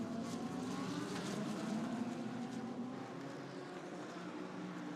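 A Lamborghini GT race car enters the pit lane during the 10 Hours of Suzuka 2018, its engine a steady, faint, distant drone against broad track noise.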